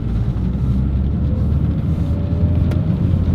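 A Mitsubishi Evolution with a freshly rebuilt engine idles or cruises quietly, giving a steady low rumble with faint wind noise and no voices.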